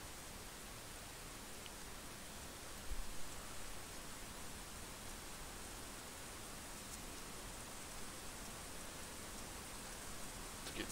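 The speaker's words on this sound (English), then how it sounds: "But so far it's just rain." Rain falls during a storm chase, a faint, even, steady hiss of drops with no talk and only one small bump partway through.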